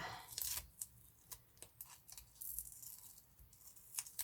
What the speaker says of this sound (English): what I'm going to have to do is cut this in half to make it fit